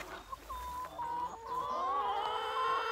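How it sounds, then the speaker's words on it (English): Chickens in a permaculture orchard during a dry summer cluck steadily and fairly close by, with several overlapping calls throughout against a soft outdoor background. "Chickens are happy to see us."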